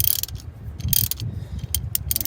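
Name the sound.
3/8 inch ratchet loosening idler pulley bolt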